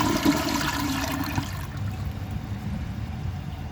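A 1990s Kilgore low-tank toilet with glaze damage flushes a washcloth: a loud rushing gush of water in the first second and a half, then a steady, slightly quieter swirling drain and refill, all close to the microphone.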